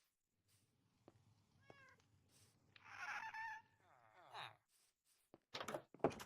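A Minecraft ghast gives a faint, cat-like mewling cry in the distance, quiet and intermittent, with someone speaking softly around it.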